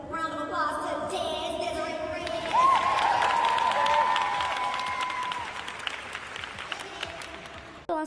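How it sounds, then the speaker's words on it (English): A gala audience applauds and cheers, a broad crowd clapping beneath a voice that rises over it, then fading gradually before cutting off abruptly. "I want to give a round of applause to"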